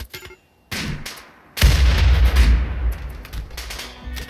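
Gunfire erupts during a Rimworld fight, with a few single shots followed by a heavy sustained burst of rapid booming fire and crackling impacts, loud and close, with no talking.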